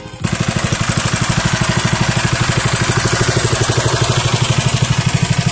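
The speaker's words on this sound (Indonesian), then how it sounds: "saya penyesuaian menggunakan mesin itu, mesin pompa ya" A small engine-driven pump sprayer running while applying pesticide to chilli plants, a loud, close, rapid regular chugging that starts abruptly and stays steady throughout.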